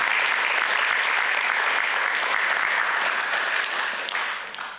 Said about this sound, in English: Let's give them a big round of applause for everything they do.